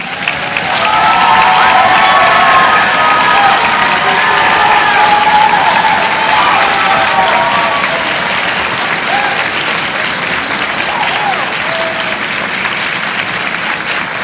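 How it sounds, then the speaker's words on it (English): A large audience at a school spring orchestra concert applauds Mr. Tyson, with sustained, dense clapping that holds steady for the whole stretch and a faint crowd murmur beneath it. "give him a big round of applause"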